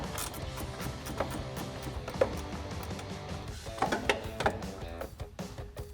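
A 7mm socket ratchet removing reverse light bolts from the rear bumper of a Jeep Gladiator JT, heard as rapid close clicking of the ratchet pawl in repeated bursts with short pauses between them, with no speech.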